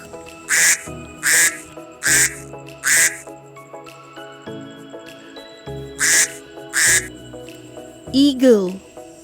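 Duck quacking in a steady series of loud, close, nasal quacks, with a brief pause midway, followed by a different squawking bird call at the end.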